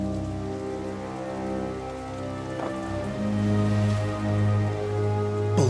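Steady rain falling in The Dark Eye: Chains of Satinav, a continuous patter over a sustained musical score, with a brief sharper hit near the end.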